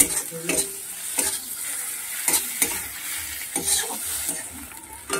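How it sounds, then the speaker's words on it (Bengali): Onion, ginger, garlic and chopped green chillies fry in oil in a pan, with a constant close sizzle and regular stirring strokes that scrape and clink against the metal. "তার সঙ্গে 2টো কাঁচা লঙ্কা কুচিয়ে রেখেছিলাম, সেটাকেও দিয়ে ভালো করে ভেজে নেব।"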